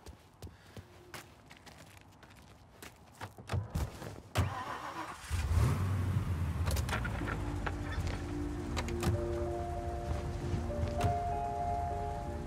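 A car engine in Mafia: Definitive Edition, with doors and clicks and then an engine starting and revving into a steady, close drone as the car pulls away, with chirping birds in the background.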